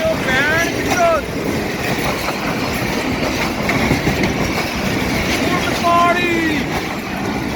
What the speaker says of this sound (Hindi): ये आई ट्रेन